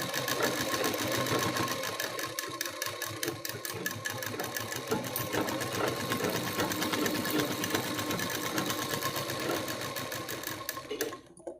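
A sewing machine stitches the folded edge of a saree blouse, running in a fast, steady mechanical whir for about eleven seconds before stopping abruptly at the end.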